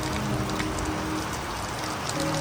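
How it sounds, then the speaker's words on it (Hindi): Steady rain hissing and pattering on surfaces at a beach in Thailand, close and constant, with no talking. "बारिश हो रही है"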